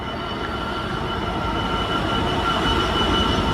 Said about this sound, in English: the freight train from Ipswich to Laurie Street